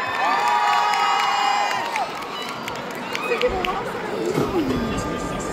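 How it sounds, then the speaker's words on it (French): A crowd at the Kamo Con 2025 cosplay contest cheers and whoops loudly, with scattered shouts and some clapping, while a voice talks over the din. "s'il vous plaît, applaudissez très fort"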